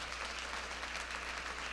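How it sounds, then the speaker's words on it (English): Round of applause from a morning panel audience at an annual Arizona Hispanic market event, a soft, even spread of clapping heard at a distance, with no talking. "let's give them all a big round of applause for joining us this morning"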